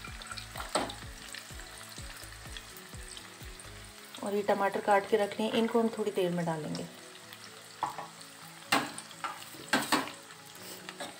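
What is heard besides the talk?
onion, garlic and ginger frying and being stirred in a pan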